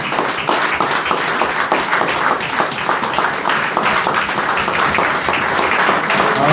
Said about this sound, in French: Acclame bien fort, je veux qu'on acclame la parole du Seigneur ce matin